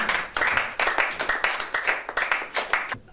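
A church congregation claps to acclaim the word of the Lord: a run of rhythmic group handclaps, close and lively, with a few faint voices mixed in.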